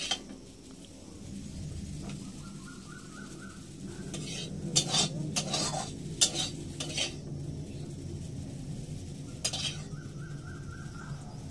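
Chowmein is scooped from a kadai onto a plate, with scattered metal scrapes and clinks of a utensil against the pan over a low steady background hum, nearby and fairly quiet.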